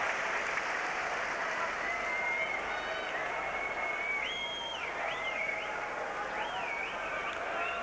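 Shrill whistles ring out from the crowd at an Everton v Newcastle United football match near full time, several rising and falling pitch sweeps riding over a steady, dense roar of spectators.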